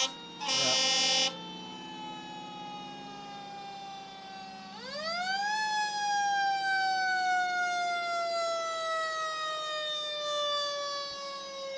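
Fire trucks in a 2007 Davison homecoming parade sound a short loud horn blast, then a wailing siren that rises and holds at length, close by and without talk.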